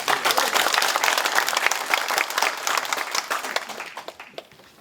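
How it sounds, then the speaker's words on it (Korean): A seated audience gives a hearty round of applause for the vice governor at the opening ceremony of a regional arts academy. The dense clapping is loud and steady for about four seconds, then thins and fades out. "공 부지사님 큰 박수 부탁드리겠습니다"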